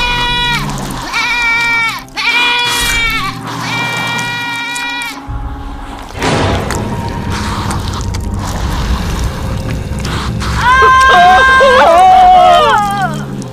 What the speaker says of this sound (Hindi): एक बकरी घूमती हुई गुफा के अंदर आ गई है।